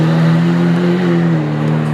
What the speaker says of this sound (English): 2015 Lamborghini Aventador Roadster.